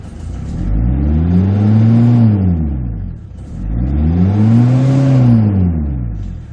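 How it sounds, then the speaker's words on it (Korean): A 2001 Porter Super long-bed truck engine is revved twice from idle: each rev climbs smoothly, holds briefly and falls back, loud and close, with a short dip between the two pulls. "이어서 바로 RPM 한번 올려보도록 하겠습니다"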